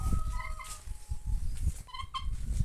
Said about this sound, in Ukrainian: ось наші кури, індики